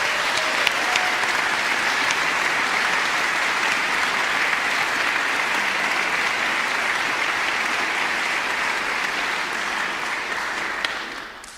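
An audience applauds an award group at a music competition announcement, a sustained dense round of clapping that holds steady for about eleven seconds before tapering off at the end.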